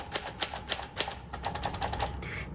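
Keys strike one by one on a Smith Corona Silent typewriter with small type, a few slow, distinct clacks followed by a faster run of lighter taps, heard up close without any voices.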